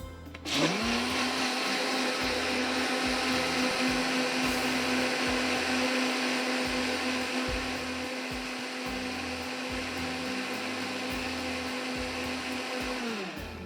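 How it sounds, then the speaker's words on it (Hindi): A blender whirs loudly and steadily for the whole stretch after a sudden start, its motor pitch holding constant with no voices. "बर्फ़ डालकर ब्लेंडर को अच्छी तरह से चला लेंगे"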